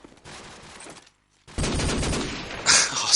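Gunfire in a Call of Duty 4 match: a short burst of shots, a brief silence, then a louder, sustained stretch of rapid firing that swells toward the end.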